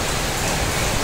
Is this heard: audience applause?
no